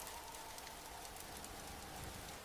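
Steady rain falling in an animated story about ants on a high forest branch, a dense even hiss of drops throughout at a faint level, with no voices.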